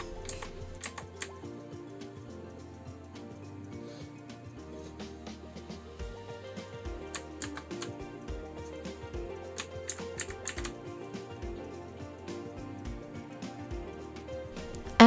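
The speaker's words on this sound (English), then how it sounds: "This has a smooth typing feel, and with a crisp typing sound, it just gives you a more pleasant sensation." Rapid, steady typing on a customized cookies-and-cream mechanical keyboard, crisp close-up key clacks with occasional heavier thocks from larger keys, continuing without pause and with no talking.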